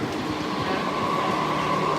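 A late-night train pulls out of a station in Roppongi, Tokyo, giving a steady rumbling rail roar with a faint high whine over it, continuous and fairly close, with no voices.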